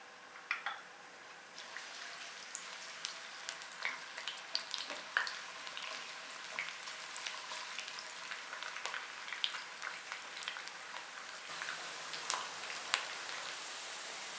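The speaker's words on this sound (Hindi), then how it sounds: "1 मीडियम साइज़ की स्लाइस प्याज को लाइट ब्राउन होने तक फ्राई करेंगे।" Sliced onion frying in oil in a kadai gives a steady, close crackling sizzle with dense little pops throughout, no voices.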